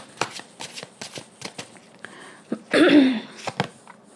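Tarot cards are shuffled in a run of quick close riffling snaps, with a brief louder flurry midway as cards are handled and drawn, and no speech.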